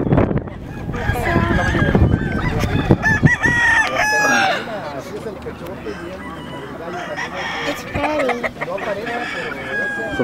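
Chickens at a poultry show in Hilmar, California, crowing loudly and clucking over a busy hall murmur, with repeated rooster crows and people talking nearby.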